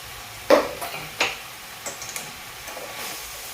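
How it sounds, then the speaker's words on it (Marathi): Hadga flower vegetable being sautéed and stirred in a pan, a few scattered scraping and clinking strokes of a spoon against the metal, fairly close, with quiet gaps between them and no talking. "तर असं परतून घेऊ आता ही भाजी एकत्र मिक्स करणार आहे"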